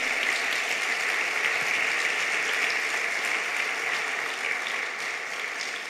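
A church congregation claps together during a pastor's sermon, a sustained, even roar of many hands heard from a little distance, holding steady for several seconds before easing slightly at the end.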